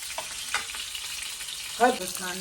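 Pakora frying in a pan, a steady close sizzle with occasional stirring scrapes and one brief louder burst.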